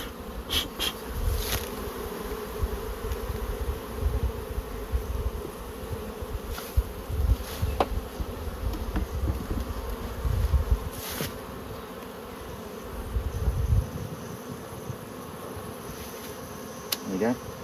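Honeybees swarm and hum loudly around an opened beehive, a thick continuous buzz close by, with occasional knocks and rustles of handling.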